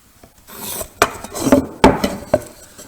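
A pencil is drawn along a tri-square on wood while marking out a tenon, giving a few short scratchy scraping strokes with light knocks between them, close and clear, with no talking.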